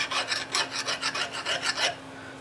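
A hand file rasps back and forth on a metal part from a homemade overhead-valve Briggs engine, about a dozen steady, close, even strokes before stopping.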